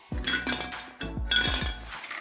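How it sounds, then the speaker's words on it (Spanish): Ice cubes scooped with a small scoop from a Westinghouse ice maker clatter and clink in two bursts, sharp glassy knocks and rattles close by, with no talk. "Ahora con mi palita voy a sacar unos cuantos hielos."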